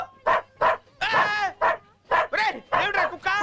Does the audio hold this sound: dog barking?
yes